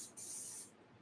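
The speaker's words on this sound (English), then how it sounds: "So I spray the coconut oil on the pan first" Coconut oil cooking spray hits a baking pan being prepared for cupcakes in a single short, close hiss lasting about half a second, then fading to quiet.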